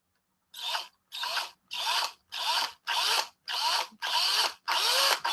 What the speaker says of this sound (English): you just take your drill and then you just kind of burst around it